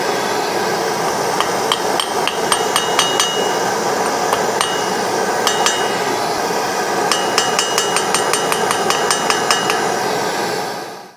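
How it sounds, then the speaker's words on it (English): Rapid metallic hammer blows ring out as an old jewelry bur is forged flat into a burnisher on an anvil, in quick bursts, bright clanging strikes repeating in clusters over a constant roaring background. "So I'm going to hammer flat down on the anvil"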